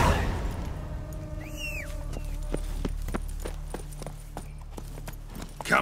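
Roach, the horse in The Witcher 3 video game, walks with a steady clip-clop of hooves at mid distance over a low ambient hum, the hoofbeats growing more distinct after the first couple of seconds.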